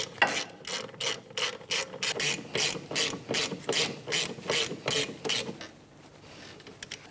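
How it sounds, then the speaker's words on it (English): A hand ratchet with a 14 millimeter socket tightens emergency brake hardware bolts on a 2007-2013 Mitsubishi Outlander, giving a steady series of about a dozen rhythmic clicking strokes, close and clear, fading out near the end. "With a 14 millimeter socket, tighten these down."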